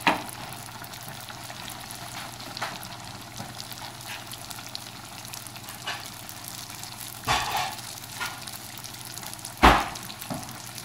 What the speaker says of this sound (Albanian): Të skuqim nga të dy anët.